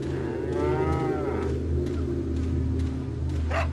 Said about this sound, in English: Thank goodness the cows aren't against me.